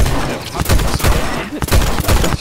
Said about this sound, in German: kann gar nichts hören, ich schieße so laut